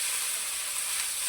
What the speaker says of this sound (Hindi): इसी के साथ हमने चिकन को अच्छी तरह फ्राई करना है